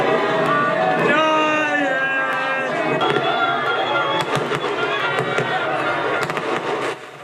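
Fireworks going off during an unruly street celebration in San Francisco after a ballgame, loud crackling bursts and pops over a roaring crowd, with whistling rockets early on and talk mixed in.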